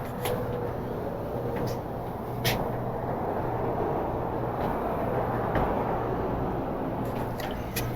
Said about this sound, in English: you can hear the traffic like you're outside.